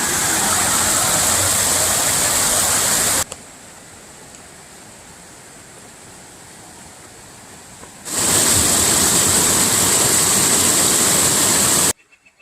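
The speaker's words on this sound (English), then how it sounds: "Waterfall here." A loud, steady rush of a waterfall at Three Forks in Dolly Sods fills the air, drops to a quieter hiss midway, then returns at full strength before cutting off.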